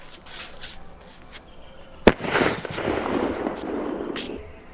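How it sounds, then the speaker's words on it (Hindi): A digital bomb firecracker goes off with one sharp, loud bang, followed by a crackling, hissing burst that fades out over several seconds. Fainter pops can be heard before the main blast, and there is no talk. "यहाँ पर डिजिटल बम है, चलो इसका आवाज देखते हैं क्या।"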